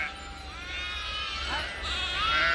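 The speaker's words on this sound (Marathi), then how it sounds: "हे पिल्ले अलग ठेवलेले आहे मेंढ्यांच्या" Sheep and young lambs, kept apart from their mothers at an evening camp, bleat in overlapping high cries, several voices calling at once, fairly close and rising toward the end.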